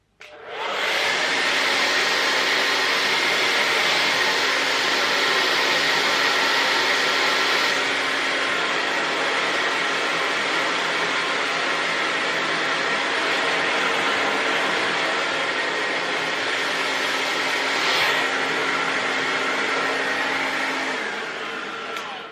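Hair dryer blowing warm air while drying hair at home, a loud steady broadband whoosh running without a break for about twenty seconds, with a slight shift in tone partway through.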